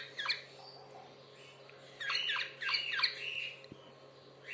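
High, scratchy squawks from a chick being syringe-fed come in two short bursts and then a longer run of cries, close by, over a steady low hum.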